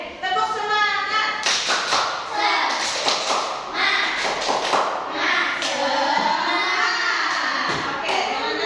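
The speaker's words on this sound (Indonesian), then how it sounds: "Oke, tepuk semangat." A classroom of children performs the rhythmic tepuk semangat spirit clap, loud claps and taps in patterned bursts, with kids' voices and a teacher's speech running throughout.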